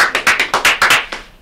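A round of applause for a counselor during Teacher and Counselor Appreciation Week: a short burst of close, rhythmic hand claps from a small group, about eight sharp claps in quick succession that thin out at the end.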